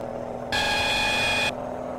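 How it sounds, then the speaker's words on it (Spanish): Horn of a Volvo VNL truck in World Truck Driving Simulator, a single one-second electronic tone with a bright, thin, chirpy ring, sounding over the steady drone of the idling game engine. "El pitido que he traído parece un grillo."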